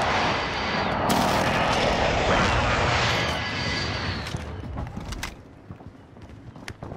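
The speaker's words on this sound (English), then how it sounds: "Be advised. Friendly precision airstrike inbound." A precision airstrike in Call of Duty Rebirth, a rising aircraft roar over heavy blasts and rumbling impacts, loud and close, fading toward the end into scattered distant pops.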